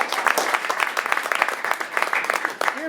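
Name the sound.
applause for conducting a huddle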